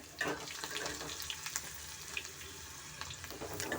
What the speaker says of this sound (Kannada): ಈಗ ನಾನು ಬೆಳ್ಳುಳ್ಳಿ ಇದ್ದೀನಿ ಬೆಳ್ಳುಳ್ಳಿನ ಅಷ್ಟು ಚೆನ್ನಾಗಿ ಫ್ರೈ ಮಾಡ್ಕೊತಾ ಇದ್ದೀನಿ